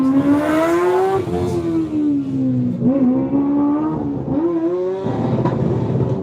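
The engine of a University of Leeds Formula Student race car drones during an endurance run, a loud, steady buzzing note that swoops and dips as the driver works the throttle, close and continuous.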